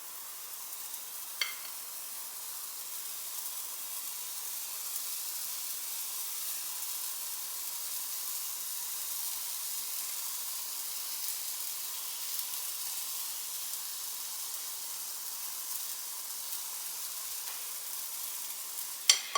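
Pancakes sizzle steadily in a pan on a home kitchen stove during a family breakfast morning, a soft continuous frying hiss with a couple of faint clicks, no voices.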